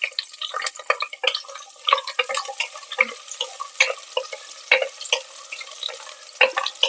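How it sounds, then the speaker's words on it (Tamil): Finely chopped small shallots sauté in a hot pan, crackling and spitting in quick irregular bursts over a soft sizzle, with occasional stirring scrapes. "சின்ன வெங்காயத்தை சேர்த்து வதக்கலாம்."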